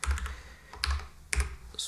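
Typing on a computer keyboard to switch to a Czech layout, with a few close, distinct key clacks spaced irregularly across a couple of seconds and no talking.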